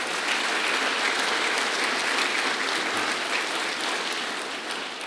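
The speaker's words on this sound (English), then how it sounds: "Give him a round of applause." Dense, steady applause fills a large audience at a governor's announcement of a Dick's Sporting Goods distribution facility, a continuous wash of clapping that eases slightly at the end.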